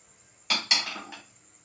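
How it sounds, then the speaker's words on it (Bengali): A thin metal wok, its handle broken off, set down on a lit gas stove, making two quick clanking knocks and a lighter follow-up clatter, close and alone over a faint steady hiss. "কড়াইটা বসিয়ে দেব।"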